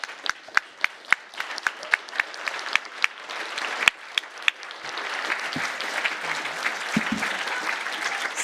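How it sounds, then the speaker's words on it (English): Audience applause after a plenary session at an academic meeting, starting as sparse, sharp individual claps that swell into dense, steady clapping from the room, with brief low murmurs near the end. "Can we give Hannah another big round of applause?"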